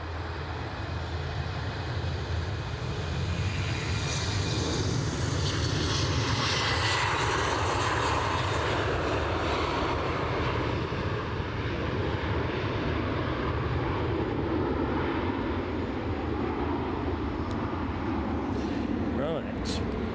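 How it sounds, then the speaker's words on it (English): A British Airways aircraft taxis at Aberdeen airport, its jet engines giving a steady, loud roar throughout with a shifting whine, while a voice talks over it. "that British Airways arrival is now moving"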